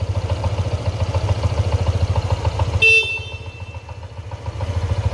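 A Honda Vario 160 scooter engine idles nearby with a steady, rhythmic putter, interrupted briefly by a short horn beep midway.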